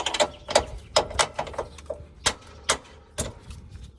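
Ratchet with a 19mm socket tightening the nut on a subframe bolt of a Nissan Armada or Infiniti QX56/QX80 during a lift kit install, heard as short bursts of clicking separated by pauses.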